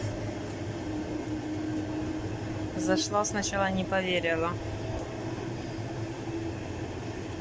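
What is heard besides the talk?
train riding on rails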